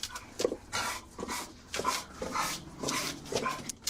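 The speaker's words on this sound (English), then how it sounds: "I can't hear you with the dogs." Dogs whimper and bark in short repeated bursts at a police scene, fairly close, the yelps and whines coming in an uneven rhythm with no speech over them.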